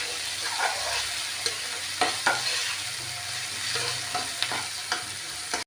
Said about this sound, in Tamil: இந்த ஆனியன் நல்லா கோல்டன் ப்ரௌன் ஆகணும், அது வரைக்கும் நல்லா வறுத்துக்கோங்க.